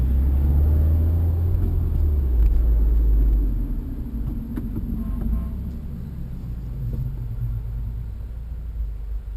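A 2016 Subaru WRX with a Cobb Access Port tune pulls hard, its engine rumbling loud and low from inside the cabin, then easing to a steadier drone as the throttle settles.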